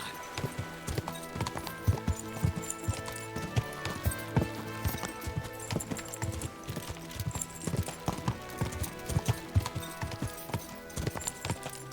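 Steady clip-clop of horse hooves in the video game Kingdom Come: Deliverance II, close and continuous, with a busy layered background and occasional faint voices.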